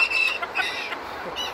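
A bantam hen clucks and squawks up close in a short burst of sharp, raspy calls, with the call loudest at the start and then fading into softer chatter.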